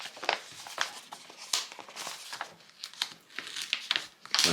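A paper envelope is opened during a Kurono Tokyo Seiji watch unboxing, with close, crisp crinkling and short tearing rips coming in uneven bursts.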